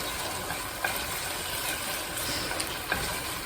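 Chickpea curry frying in a pan as spices are stirred in, a steady soft sizzle throughout with a couple of faint scraping clicks from the spoon.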